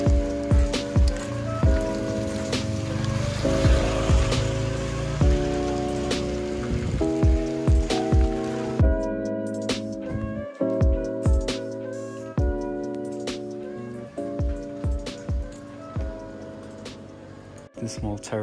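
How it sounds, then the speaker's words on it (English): Rain falls steadily on a garden terrace at a hotel in Ubud, Bali, with a soft continuous wash of drops under sustained melodic music with sharp repeated notes throughout. "It's been raining all day"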